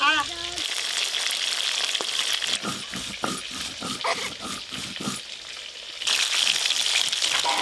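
Large grass carp tail frying in hot oil in a karahi, a steady close sizzle running throughout and swelling louder near the end, with brief clinks of a utensil in the middle.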